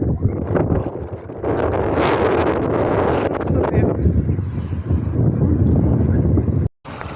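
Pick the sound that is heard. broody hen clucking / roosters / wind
wind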